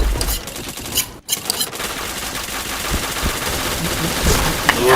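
Gunfire in a shooting video game, dense rapid bursts like a fusillade that run almost continuously with a short dropout.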